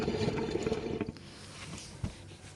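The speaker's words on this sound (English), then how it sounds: "So basically all the water will come out." Coolant water gurgles and splashes as it drains from a hose on a Renault 1.5 dCi engine, louder at first, then thinning to a quieter trickle with a brief splash near the end.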